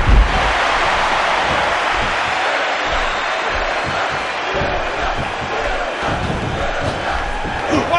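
A large arena crowd cheers continuously through a WWE 12 match between John Cena and The Rock, a dense, loud roar with rhythmic chanting pulses and a commentator's voice partly audible under the noise.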